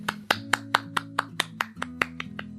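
Slow, evenly spaced hand claps on a Portuguese-language podcast, about a dozen close, crisp claps in a steady rhythm over a low background hum.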